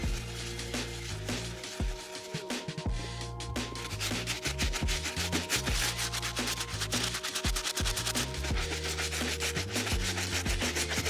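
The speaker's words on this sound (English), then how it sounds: "We gotta get these as clean as possible so we can remove the yellowing. For this, I'll be using the stiff bristle brush." A stiff bristle brush scrubs Air Jordan 11 sneaker soles: continuous, close, rhythmic scratchy strokes repeating rapidly throughout with no talking.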